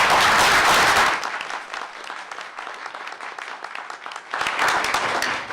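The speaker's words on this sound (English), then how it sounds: "Let's give Austin a round of applause" An audience at a school board meeting breaks into a round of applause, loud at first, then settling to thinner scattered clapping before swelling again near the end.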